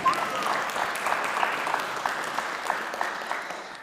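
An audience at a panel discussion in a visiting artists and critics series applauds with steady clapping that holds at an even level for a few seconds and then eases slightly.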